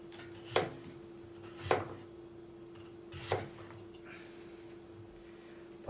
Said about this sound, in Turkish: Patateslerimizi de küp küp doğrayalım.